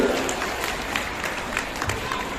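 An audience at a Vasavi Club International event in Kovvur breaks into applause, a dense wash of clapping filling the room with voices mixed in underneath.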